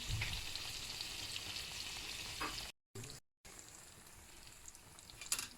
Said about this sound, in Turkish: Ben sucukları çok az suyla pişiririm. Sonra üzerine tereyağı ekleyeceğim.